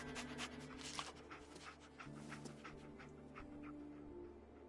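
Dogmeat, the dog companion in Fallout, panting quietly and steadily through the clip, soft rhythmic breaths close by over low background hum.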